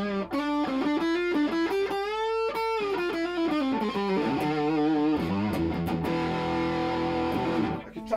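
An Epiphone SG 300 fitted with a triplebucker pickup plays through a Rat distortion pedal, giving a gritty, sustained line of bending single notes that moves into held chords before cutting off.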